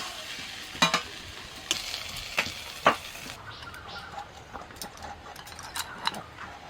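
A spoon stirs vegetarian filling for potol dolma as it fries in a pan with a steady soft sizzle, while sharp scraping clicks land every second or so over the frying.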